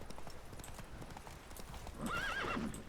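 A horse in The Witcher 3 clip-clops along at a steady walking pace, then gives a loud whinny near the end, close and clear with no speech over it.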